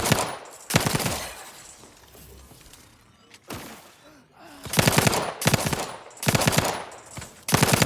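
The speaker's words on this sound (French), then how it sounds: "Mortier d'artillerie là." Artillery mortar fire in the shooter game The Outer Worlds 2, loud repeated blasts and rapid bursts of gunfire with quieter gaps between, then a tight run of heavy booms toward the end.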